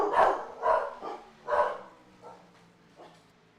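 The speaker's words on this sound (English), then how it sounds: "Whenever you have sound, then you have dogs barking." Dogs bark in a quick run of about four loud, close barks, then a few softer, more distant yips trailing off.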